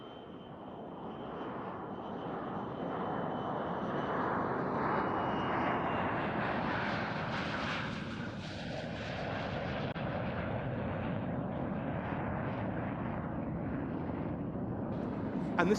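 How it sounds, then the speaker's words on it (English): A Lockheed U-2S reconnaissance aircraft of the USAF 99th Expeditionary Reconnaissance Squadron flies a display at the RIAT 2024 airshow, its engine roar steady and loud throughout, swelling in the middle as it passes. "the Lockheed U-2S."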